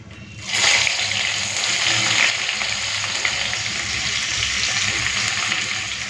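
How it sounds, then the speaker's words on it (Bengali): Chopped onion tipped into hot oil with fried whole spices and a pinch of sugar, erupting into a loud, steady frying hiss that holds close and even for several seconds, with no talking. "এখন দিয়ে দেবো পেঁয়াজ কুচি"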